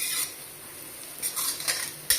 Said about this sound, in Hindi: प्याज फ्राई हो रही है अब तक